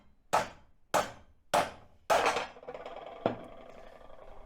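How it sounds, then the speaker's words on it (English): Five sharp hammer blows on metal, the first four evenly spaced, then a pause before a final strike, close up with ringing decay. "We give it a minute and whack it with the hammer."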